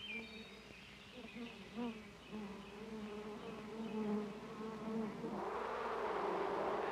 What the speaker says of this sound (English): Many bees live together in a hive. They come and go all day long.